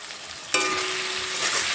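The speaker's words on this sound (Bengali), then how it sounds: "আবারও একটু নেড়ে চেড়ে নেব লবণ আলু টমেটো পেঁয়াজ সব কিছুর সঙ্গে মিশিয়ে নেব" Onion, potato and tomato with salt sizzling in a frying pan as they are stirred, a steady close crackle that jumps louder midway when the pan is stirred.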